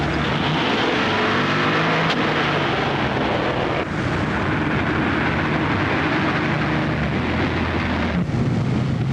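A car drives fast during a chase, its engine a steady, loud, continuous roar with heavy rushing wind noise throughout and no voices.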